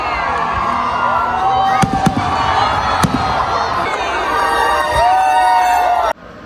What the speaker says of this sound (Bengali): আর ঠিক রাত 11টায় শুরু হলো আতশবাজির খেলা।